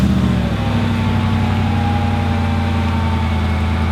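A car engine running at a steady idle just after starting, a continuous low rumble held at an even level throughout, with no voices.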